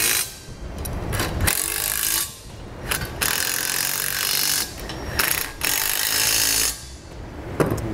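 Ratchet wrench with a 19 mm socket snugging the bolts of a B and W heavy-duty trailer hitch receiver on a 2014 Chevrolet, with several bursts of close, loud rapid clicking separated by short pauses.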